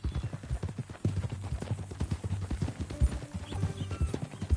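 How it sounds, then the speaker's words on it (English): Horse hooves clip-clop in a steady rhythm through the Red Dead Redemption 2 video game, close and moderately loud, with a rider's mount trotting along at an even pace. "That a new horse?"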